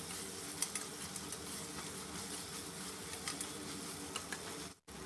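Ginger-garlic paste stirred into softened tomatoes in a pan, giving a steady close sizzle with soft scraping stirs throughout and a brief drop-out near the end.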